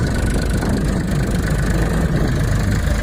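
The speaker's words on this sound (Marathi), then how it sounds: "ट्रॅक्टरच्या सहाय्याने हे आम्ही कांद्याचं बी पेरणी करतोय" A tractor engine idles loudly and steadily nearby while sowing onion seed with a seeding machine, a constant low rumbling drone with no pauses.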